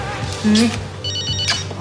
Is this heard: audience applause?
no